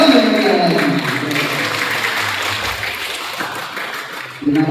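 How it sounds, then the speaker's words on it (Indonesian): An audience at an SBC Tuban business club gathering breaks into steady, full applause that holds evenly for several seconds before thinning slightly at the end. "Kasih tepuk tangan yang meriah"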